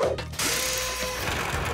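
A cartoon rescue ladder extends mechanically with a loud, continuous ratcheting clatter of gears that runs for over a second after a brief start.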